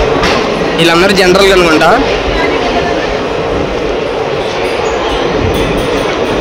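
Ratnachal Express at Duvvada station, a loud steady rumble of the train on the rails with a brief squeal near the start, while someone talks over it.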